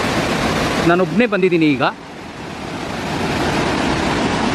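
Abbi Falls pours down over rocks in a loud, continuous broadband rush; someone speaks briefly over the roar near the start, then the water carries on alone.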